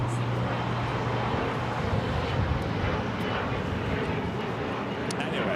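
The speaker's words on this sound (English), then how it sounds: "This is United Airlines 2445 coming in from Newark on the 787-10 Dreamliner." A United Airlines Boeing 787-10 Dreamliner arriving at LAX from Newark, its steady broadband engine roar holding loud and constant throughout, with a low hum in the background.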